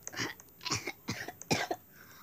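A short run of dry coughs, four or five harsh bursts in quick succession, close and fairly quiet, with no talking.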